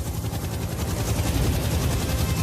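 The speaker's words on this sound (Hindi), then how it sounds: "क्या तुम्हें हेलीकॉप्टर्स की आवाज आ रही है?" Helicopters flying overhead near the pyramids in Egypt, a steady loud rotor chop and engine rumble that holds without a break throughout.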